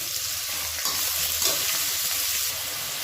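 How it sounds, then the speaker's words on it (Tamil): Sliced big onions with salt sauté in a pan for a chicken curry, giving a continuous close sizzle with soft stirring scrapes throughout, no voices. "இப்போ இந்த வெங்காயம் வதங்கிட்டு இருக்கட்டும்."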